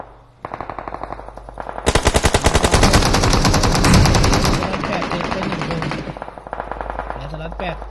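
Gunfire from all directions in a battle royale video game: dense, loud automatic bursts roll almost continuously with echoing cracks, while a commentator talks excitedly over the shooting.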